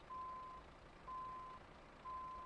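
A truck reversing while being straightened up, its backup alarm giving three steady, evenly spaced beeps about a second apart over a low, faint engine rumble.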